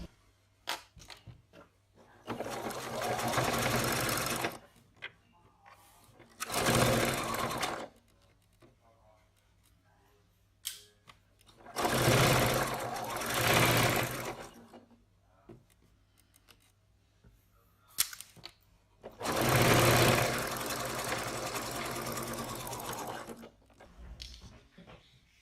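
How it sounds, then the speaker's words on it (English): A sewing machine stitches the top of a fabric pocket in four separate bursts of steady whirring, each a few seconds long, with quiet pauses between and small clicks and handling noises in the gaps. "We're going to stitch the top of the pocket."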